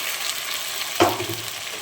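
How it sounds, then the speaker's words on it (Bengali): Onions browned in a frying pan keep up a soft, even sizzle, then tomatoes drop in with a short burst of spattering hiss before the frying settles back to a low crackle. "তো আরেকটুখানি ফ্রাই হোক বাদামি রঙের হয়ে গেছে এবার আমি দিয়ে দেবো টমেটো"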